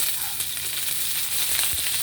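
Chopped onion sizzling in a small amount of oil for salmon belly sinigang, a steady close hiss and crackle with no talking.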